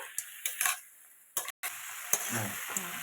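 Crab cooked with taro stolons stir-fried in a pan, with a faint sizzle under scattered scraping and clattering of a spatula, close and fairly quiet.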